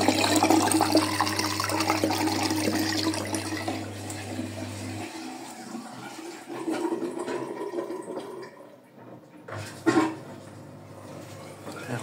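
Front-loading washing machine running a wash cycle with Bonux detergent, water sloshing and churning steadily alone, a low motor hum dropping out midway, followed by quieter splashing and a brief louder surge near the end.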